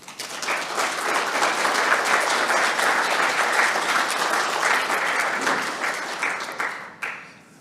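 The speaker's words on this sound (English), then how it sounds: "So massive round of applause to all of you" A conference audience at a retreat's closing address applauds the attendees with dense, sustained clapping that fills the room at steady loudness before tapering off near the end.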